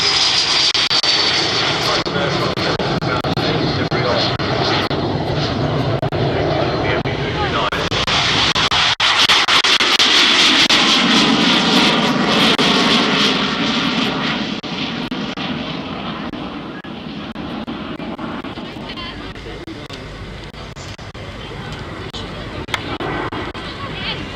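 An M-346 jet trainer flies with the Frecce Tricolore, the Italian aerobatic team, at an air show, making a loud, sustained jet roar that swells and fades slowly over the whole stretch while a crowd murmurs underneath.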